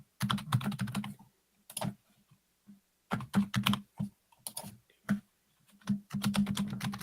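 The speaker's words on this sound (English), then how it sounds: "Now, while Rebecca's typing all that in" Rebecca types on a computer keyboard in irregular bursts of quick key clicks with short pauses between runs, heard close and fairly quiet.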